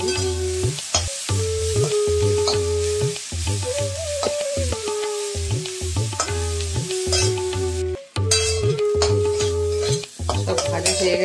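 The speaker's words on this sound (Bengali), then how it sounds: "টমেটোটা দিয়ে দিচ্ছি, ক্যাপসিকাম দিয়ে দিলাম আর আদাটা দিয়ে দিচ্ছি।" Tomato, capsicum and ginger frying and being stirred in a pan, a steady loud sizzle broken by repeated scraping stir strokes throughout, with no talking.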